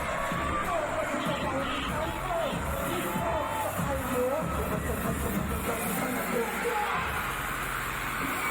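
Dense crowd noise from fans screaming and cheering at a concert at a Pepsi Pulse event, a constant roaring wash of voices with shrill yells rising above it throughout.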